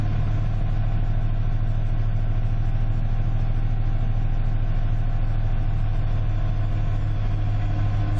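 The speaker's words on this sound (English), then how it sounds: "Can you hear the engine going up and down?" The engine of a 1995 Ford F-150 running a diagnostic code test holds a steady, loud, close rumble, with the speed varying only slightly, and no voices.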